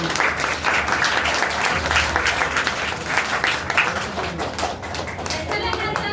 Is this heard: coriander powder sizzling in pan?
no